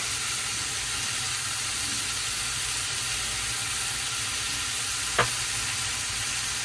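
Seasoned ground meat browning for meat pies sizzles and hisses steadily in a hot pan, a constant close frying noise with one brief clink of utensil partway through.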